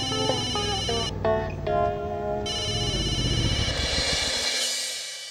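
A mobile phone ringtone plays a repeating melodic tune for several seconds and goes unanswered, heard clearly indoors in a scene of the Hindi TV comedy Taarak Mehta Ka Ooltah Chashmah.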